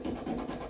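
Hand sanding of a knife blade with 80-grit sandpaper, worked manually without a backing plate, gives a steady, close, continuous rasping scrub with slight stroke-to-stroke swells.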